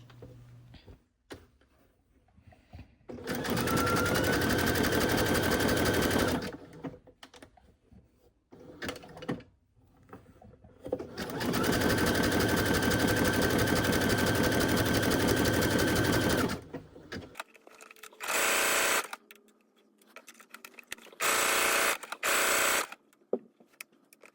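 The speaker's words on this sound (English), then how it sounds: "Work your way around the entire bottom edge of the shirt, making sure you stretch as you sew." A sewing machine stitches a stretched lettuce hem along the bottom edge of a shirt, running in two long loud bursts of rapid whirring with quieter pauses between, followed by a few short stitching spurts near the end.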